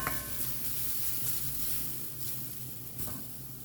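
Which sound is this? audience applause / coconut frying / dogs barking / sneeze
coconut frying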